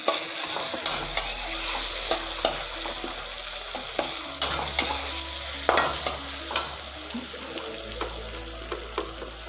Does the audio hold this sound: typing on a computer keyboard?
no